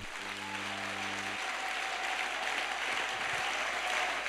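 A church congregation applauds steadily throughout, a dense, even wash of clapping with no voices over it.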